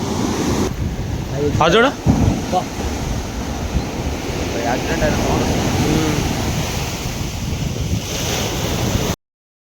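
Sea waves breaking on the beach at Dhanushkodi make a continuous loud wash under heavy wind buffeting on the microphone, with a few short voices near the start and a brief cut to silence at the end.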